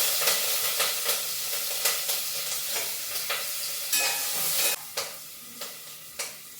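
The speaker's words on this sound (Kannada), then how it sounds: "ಸಿಡ್ದಿದ್ದಾಯ್ತು, ಅದನ್ನು ಫ್ರೈ ಆಗಿದೆ ಎಣ್ಣೆಯಲ್ಲಿ." Curry leaves and green chillies crackle and sizzle in hot oil with mustard seeds and cumin, a steady close hiss broken by regular scraping stirs and louder pops near the end.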